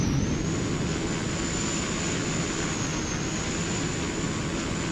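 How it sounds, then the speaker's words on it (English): A Cessna Caravan turboprop roaring on a tidal beach airstrip, a loud, steady engine drone with a high whine riding above it, unbroken for the whole stretch and with no voices. "I'm gonna put myself away from the airplane enough so it's not as loud. It is pretty loud."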